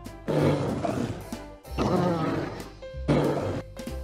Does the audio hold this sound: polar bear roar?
yes